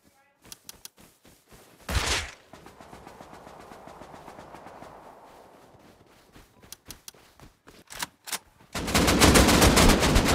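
AK rifle fire in the game Rust, rapid automatic bursts near and loud, stopping and starting, with a heavy rumbling stretch between bursts and a dense, sustained volley at the end.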